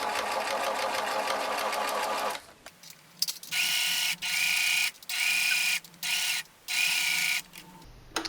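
Domestic sewing machine stitching fabric for a cloth face mask: a steady close whirring run, then a pause, followed by several short bursts of rapid stitching with brief stops between.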